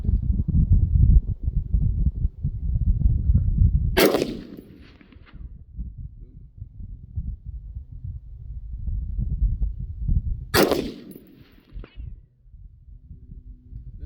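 Two sharp gunshots with open sights, fired at a steel target on an outdoor range, ring out several seconds apart, loud and close over steady background rumble.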